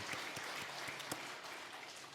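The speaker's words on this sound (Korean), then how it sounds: "한번 격려의 박수 한번 하겠습니다." A church congregation at a Wednesday prayer service claps to encourage the worship team, sparse and fairly faint, with a few sharp claps standing out over a soft patter.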